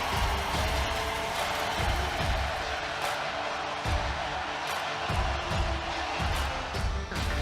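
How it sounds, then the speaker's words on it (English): Hockey crowd cheering and on its feet during a gold-medal youth game at an arena, a broad sustained roar filling the space at steady loudness, with a commentator's voice over it. "Listen to this crowd. They're up on their feet."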